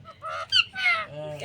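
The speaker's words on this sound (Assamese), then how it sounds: "এয়া চাওকচোন এইটো টিয়া চৰাই, কি ধুনীয়াকৈ মাতি শুনিবচোন।" A parrot gives a few short, harsh, tonal squawks in quick succession, close and clear against a quiet background.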